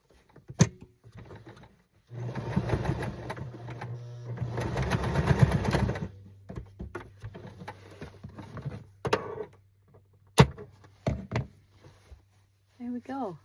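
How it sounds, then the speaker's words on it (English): A sewing machine stitches across a pants hem in a short buzzing run lasting a few seconds, surrounded by sharp knocks, clicks and fabric handling, with a person talking between bursts. "I'm just going to put a small stitch right across the top to hold the hem down."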